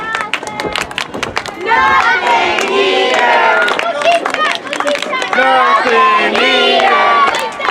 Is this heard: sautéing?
no